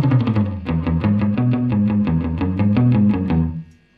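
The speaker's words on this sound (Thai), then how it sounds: "จะเป็นรีเวิร์บสแลปแบ็กสั้นๆนะครับ เหมือนอยู่ในห้องกันแหละเนาะ" Electric guitar through a NUX amp simulator with a short slapback room reverb, a run of quick picked notes at a steady pace, each with a brief echo tail, ending in a quick fade to silence.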